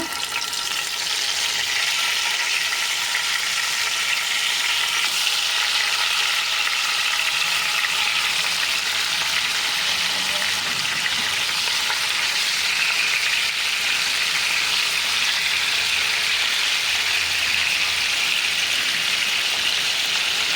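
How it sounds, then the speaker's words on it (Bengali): Fish frying in hot oil gives a loud, even, continuous sizzle and crackle that holds steady throughout with no talking. "আমি তেল গরম করে নিয়েছি আমি একে একে মাছগুলো ভেজে দেবো"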